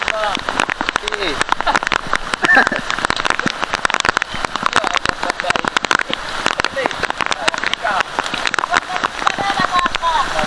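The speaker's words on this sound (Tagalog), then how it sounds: "Uwi na tayo. Takas na ulan." Rain falls steadily on an outdoor fishing spot, a dense continuous crackling patter with a voice briefly over it.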